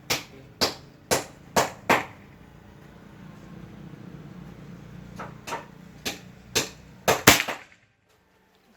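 A full-CNC Gen 5 PCP air rifle with sonokeling wood, a Pajero Gun build, fires sharp, close snapping cracks: five quick shots, a pause, then about six more in a faster cluster.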